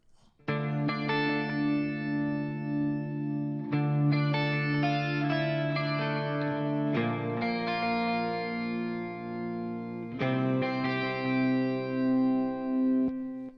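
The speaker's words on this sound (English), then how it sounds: "If I now were to play just the guitar parts, it would sound like this." Clean electric guitar chords ring out in sustained phrases with a light shimmering effect, several strummed changes, no voices.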